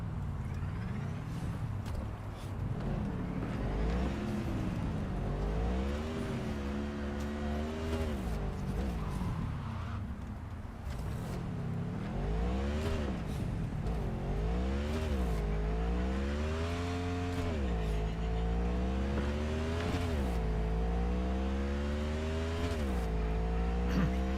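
A car engine in Cyberpunk 2077 revs up and down repeatedly while driving, throttle tapped in bursts, with rising and falling pitch sweeps and occasional tire noise, loud and continuous.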